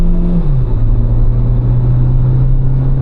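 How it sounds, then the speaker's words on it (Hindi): A Tata Sierra SUV in sports mode accelerates with a loud, steady low engine drone whose pitch drops briefly as a gear changes and then holds, with road rumble underneath and no speech. "स्पोर्ट्स मोड में पावर जो है वो देख लो आप"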